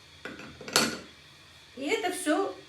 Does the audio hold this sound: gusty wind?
no